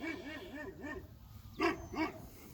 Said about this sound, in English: Neighbor's dog saying hello as usual.